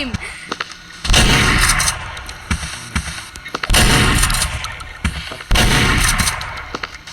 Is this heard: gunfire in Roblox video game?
yes